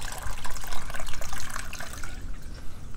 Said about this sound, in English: gonna fill up a couple of cups of that and hand water some of our developing plants